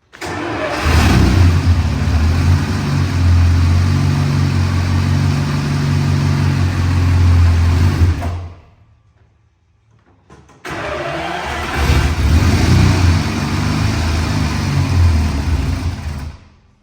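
Supercharged straight-eight engine of a vintage Bugatti race car running loud and close, a harsh rasping drone that cuts out for about two seconds, then restarts and keeps running.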